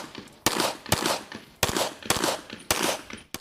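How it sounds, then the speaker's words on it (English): Rapid bursts of gunfire crack across the Taber Sports Shooting Complex during a shooting competition, several sharp shots with short echoing tails arriving in quick clusters, loud and close, with no talk. "Plenty of gunshots are ringing out from the Taber Sports Shooting Complex."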